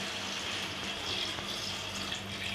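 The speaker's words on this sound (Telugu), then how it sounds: "మునక్కాయలు టమాటాలు ఉడికిన తర్వాత వాటర్ పోసుకోవాలి" Water poured into a pot of sambar with drumsticks and tomatoes, a steady, close splashing gush that runs evenly throughout with no voices.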